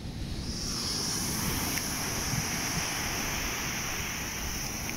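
Continuous roar of breaking surf at Pandawa Beach in Bali, with gusting wind buffeting the microphone, a steady wash of noise with no voices.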